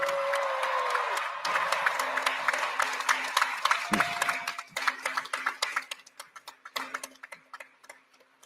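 Graduation audience in caps and gowns giving another round of applause, a crowd of distinct hand claps near and fairly loud, with a sustained tone early on and a voice briefly audible partway through.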